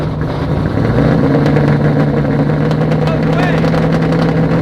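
A turbocharged Corvette with tailpipes dumped at the axle idles loudly and steadily in a parking lot, a deep rough rumble with a slight rise, while people talk over it.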